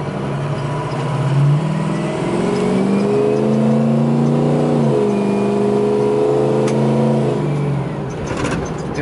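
Ford Powerstroke turbo diesel dually crew cab 4x4 pickup revs its engine, rising and falling in pitch twice over a loud continuous drone, heard close with no talking.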